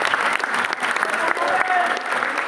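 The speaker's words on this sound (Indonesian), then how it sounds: "berikan tepuk tangan" An audience at a business association gathering applauds after a minister is introduced, a dense burst of clapping with crowd murmur and some voices mixed in.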